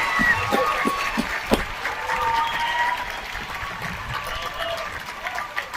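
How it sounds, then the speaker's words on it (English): A commencement audience for a College of Business Administration graduating class applauds, with steady dense clapping from a large crowd that holds at an even level and eases slightly toward the end. "How about one more round of applause for the class of"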